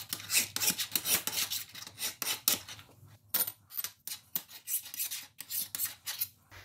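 Repeated rasping strokes of a file deburring metal clamp parts, close and fairly quiet, in an uneven back-and-forth rhythm with brief pauses.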